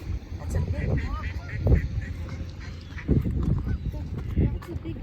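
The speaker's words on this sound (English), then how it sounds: "There's thousands of ducks." A large flock of wild ducks gathers at the Barrie city waterfront in winter, their honking, quacking calls overlapping in busy bursts, close and fairly loud, alongside nearby human voices.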